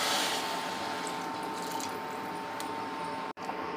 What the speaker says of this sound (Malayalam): ഇതിലോട്ട് നമുക്ക് ചുടുവെള്ളം ഒഴിച്ചു കൊടുക്കാം